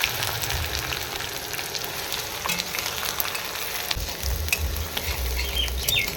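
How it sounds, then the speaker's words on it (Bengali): Chopped onions frying in oil with cinnamon, cloves, cardamom and bay leaf, making a continuous crackling sizzle up close, broken by scraping stirs and occasional sharp clinks of a utensil against the pan. "পেঁয়াজগুলো ভেজে নেব"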